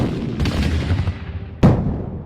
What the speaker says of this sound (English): Those are the cannons from Fort McHenry!